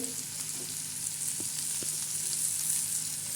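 Tomatoes, onion and curry leaves tempering in hot oil for a sprouted-bean usal, giving a steady, close sizzle with light stirring scrapes throughout and no talking.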